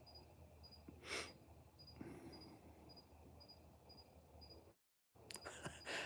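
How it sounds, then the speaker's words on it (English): Crickets chirp outdoors by an open back patio, a faint, regular pulsing trill repeating steadily in the background, with a brief dropout near the end. "Oh, you can hear the crickets?"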